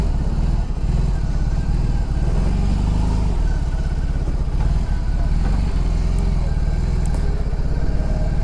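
A BMW R 18 Roctane cruiser with its big longitudinally mounted boxer engine runs loud and steady throughout, a dense low rumble with a faint rise in revs partway through.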